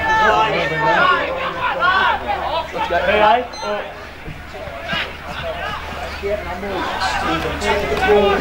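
Spectators at a local division 2 football match between Crib Point and Hastings fill the air with a dense babble of overlapping voices. Close-up speech and occasional shouts sit on top of the steady crowd murmur.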